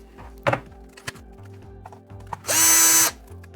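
Power driver backing screws out of a WLtoys 124007 RC car, a few clicks and taps followed by one short loud whirring burst of the driver, close and alone.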